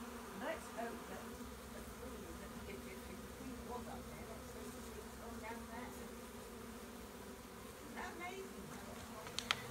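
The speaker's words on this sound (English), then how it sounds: "That bee has arched its back end and is flapping its wings." Honeybees from a swarm buzz steadily nearby, one fanning its wings, a soft continuous drone with a few louder passes, fairly faint throughout.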